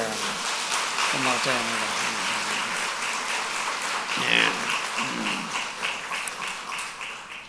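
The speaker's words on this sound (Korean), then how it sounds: "박수 한번 해주세요" A lecture audience bursts into a sustained round of applause, broad clapping filling the room while someone speaks briefly over it.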